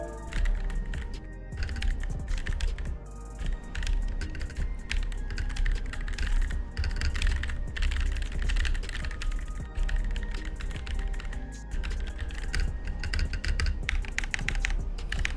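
Rapid typing on an Akko mechanical computer keyboard during a gaming session, with backspace presses mixed in; steady, close clacking keystrokes in continuous bursts with no talking.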